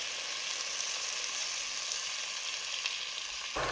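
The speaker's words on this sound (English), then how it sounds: "Fry for 1 minute." Pork belly fries in a pan with soy sauce and star anise, giving a steady, dense sizzle that holds evenly close up and then cuts off abruptly near the end.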